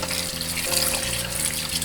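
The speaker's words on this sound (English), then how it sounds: "I'm going to add cold water to the pan and let them sit in that cold water." Cold tap water runs steadily into a pan of cooked lasagna noodles, a soft continuous splashing hiss with no voices over it.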